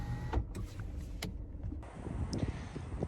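The electric sun blind in a Peugeot 2008 whirs steadily as it slides open toward the rear seats: a quiet, close motor hum with a few faint clicks and a slight shift in tone partway through.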